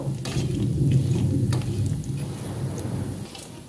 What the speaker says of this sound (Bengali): একটু বড়িগুলো ভেজে নেব।